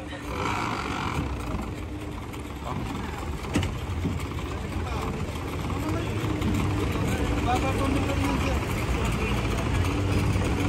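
A rescue boat's engine on the Marikina River sputters and is restarted, a rough low motor drone running steadily under outdoor noise while people talk nearby.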